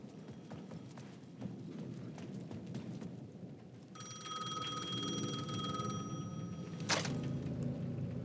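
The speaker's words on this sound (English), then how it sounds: "The payphone at the edge of the plaza was ringing again." A payphone at the edge of a plaza in Alan Wake 2 starts ringing with a sustained electronic bell tone over a low ambient hum, ending in a sharp burst.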